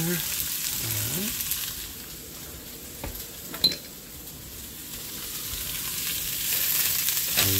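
Chunks of garlic sizzle and fry in a hot pan for fried rice, a bright continuous crackle with a utensil scraping and clinking against the pan as it is stirred, close and steady.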